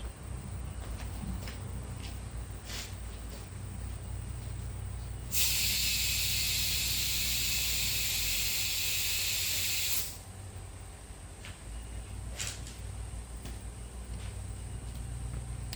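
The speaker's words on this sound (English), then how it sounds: "I'll go up to the front, blow some air through, tell me what happens." Compressed air blown through the fuel line of a 1968 Datsun 1000 makes a loud, steady hiss lasting about five seconds, starting and stopping abruptly over a low background hum.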